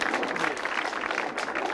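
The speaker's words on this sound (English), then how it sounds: "yeah, go ahead, clap" An audience applauds President Clinton during his 1993 remarks on campaign finance reform, a brief dense wash of crowd clapping with some murmured voices mixed in.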